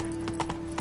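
Hooves of the horse Roach in the Witcher 3 video game, a brief quick run of galloping clip-clop beats, fairly faint under a low steady hum.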